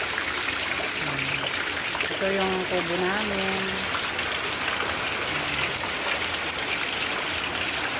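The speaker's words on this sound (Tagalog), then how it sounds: "Pabugso-bugso ang ulan tsaka hangin." Heavy rain and gusting wind outside a nipa hut during a storm, a steady loud roaring wash that fills the whole stretch while someone talks over it.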